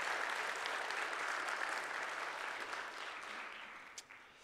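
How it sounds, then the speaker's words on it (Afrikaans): A church congregation gives a round of applause, a broad continuous wash of many hands clapping at a moderate distance that slowly thins and fades toward the end. "Kom ons sê hom 'n lekker hande klap"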